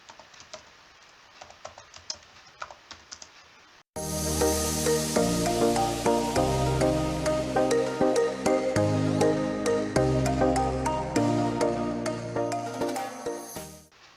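Typing on a computer keyboard while replying to a letter: a fast, steady patter of close key clicks, with no talk over it.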